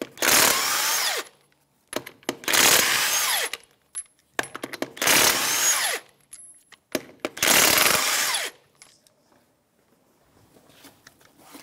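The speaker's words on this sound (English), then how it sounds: "remove the lug nuts." A power tool with a 21mm socket spins off the wheel lug nuts of a 2013-2018 Toyota RAV4 in four loud whirring bursts, each followed by a short rattle and clink of the freed nut.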